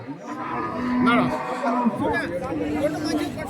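Milk cows low at a busy cattle market in Santhipuram, Andhra Pradesh, with a couple of drawn-out moos rising over steady crowd chatter and someone speaking nearby.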